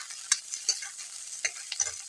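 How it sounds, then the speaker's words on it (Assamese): Onions being stirred in hot oil in a pan with dried red chillies, a few short scraping stirs and light sizzle bursts, quiet and intermittent over two seconds with no talk. "তেলো গৰম হৈ পিঁয়াজখিনি অকণমান লৰাই লওঁ"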